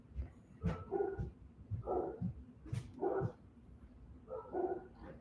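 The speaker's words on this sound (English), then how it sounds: "Wonder what they're barking at." Dogs bark outdoors at a stealth campsite at Christmas time, four or five spaced bursts of sharp barks and yips at moderate distance over a quiet background.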